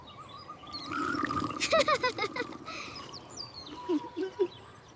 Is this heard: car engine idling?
no